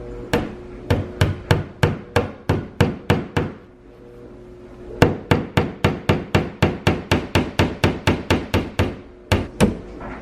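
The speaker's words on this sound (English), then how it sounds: "You wanna just do the nail and not the holder? I need the hammer." A hammer drives a nail into the wall of an empty new townhouse in a steady run of sharp, close strikes, one brief pause, then another rapid series of blows.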